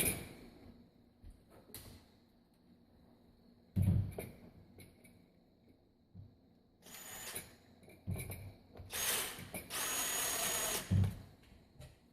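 A hand screwdriver or small power driver sets the screws of a new Andersen casement window crank, with scattered clicks, scrapes and short whirring bursts at close range against a quiet room.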